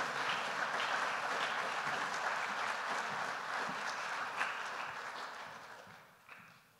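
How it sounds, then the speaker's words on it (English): An audience applauds at a college honors convocation, a broad wash of clapping from a large crowd that holds steady, then fades away near the end. "Give yourselves another round of applause."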